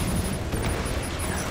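Missiles fire and explode in Batman: Arkham Knight as a dense, roaring blast with low rumble that fills the whole short moment without a break.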